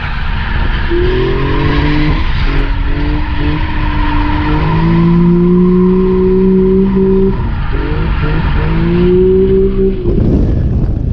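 A Mazda RX-8 engine roars loudly while tires squeal in long, wavering screeches as the car slides in a handbrake drift, steady and close throughout.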